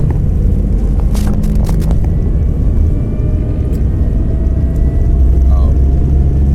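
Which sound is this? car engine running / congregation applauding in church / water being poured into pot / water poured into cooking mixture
car engine running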